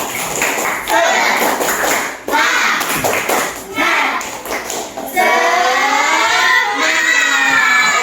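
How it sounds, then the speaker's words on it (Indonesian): A school class does rhythmic spirit clapping, sharp patterned claps repeating in groups alongside children's chanting voices, loud and close, with the chant continuing on its own toward the end. "untuk menambah semangat kita beri tepuk semangat"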